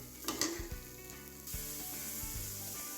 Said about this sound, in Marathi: आता आपण कढईमध्ये घालणार आहोत पनीरचे तुकडे